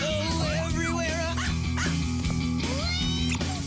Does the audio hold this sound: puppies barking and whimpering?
yes